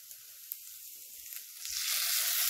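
A spoonful of tomato sauce hits a pan of sautéed colored peppers, a soft sizzle that swells into a loud, steady frying hiss.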